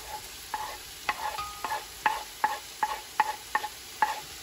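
Garlic sautés in a pan under soft, steady frying, with a spatula scraping and tapping in a regular rhythm roughly twice a second, close and fairly quiet.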